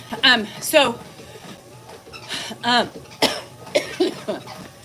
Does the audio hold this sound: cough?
yes